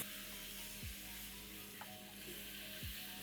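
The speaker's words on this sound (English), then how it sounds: "In the same oil, let's begin with bay leaves and along with this, paste of red onions. Let's fry this" Bay leaves and red onion paste frying in oil for a curry, a steady faint sizzle with two soft utensil knocks against the pan.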